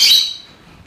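Sharp, loud bird call burst close by, a single high squawking chirp that quickly fades into near silence.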